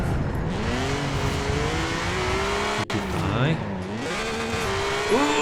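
BMW Z4 with a six-cylinder engine drifting in Forza Horizon 4, engine droning and revving with shifting pitch while tyres squeal through the slide, loud and continuous with a brief drop near the middle.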